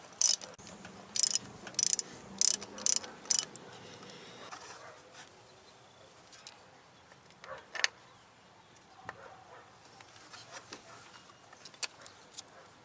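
Ratchet wrench running down bolts on a Jeep water pump, heard as several short clicking bursts early on, then quieter scattered clicks and handling noises near the microphone.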